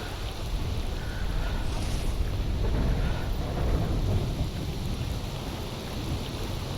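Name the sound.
rain and thunder in a video game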